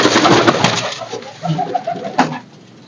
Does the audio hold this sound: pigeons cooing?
yes